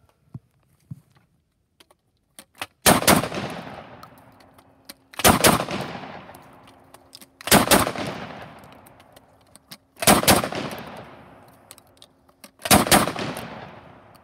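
A Charles Daly 512 12 gauge shotgun fires five loud blasts at steady intervals of a couple of seconds, each booming shot trailing off into a long outdoor echo, with faint handling clicks before the first.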